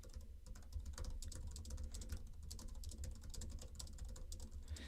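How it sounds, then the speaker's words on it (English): Rapid, continuous typing on a computer keyboard: a dense stream of close, crisp key clicks over a low background hum, with no one talking. "can you hear the keyboard? Is the keyboard like clicking away?"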